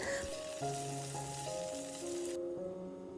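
Curry leaves and fennel seeds crackle and sizzle in hot coconut oil in a pan, a soft continuous frying hiss with scattered pops, fairly quiet, while steady background tones hum underneath.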